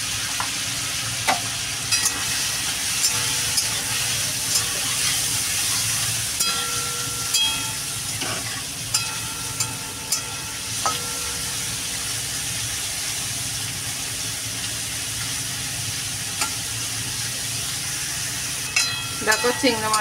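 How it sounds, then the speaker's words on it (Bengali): Prawns fry in a hot wok for chilli prawns with a continuous crackling sizzle. Scattered clinks and scrapes of stirring run through it, and the sound stays close and moderately loud throughout. "দেখো চিংড়ি মাছগুলো ভাজা হয়ে গেছে"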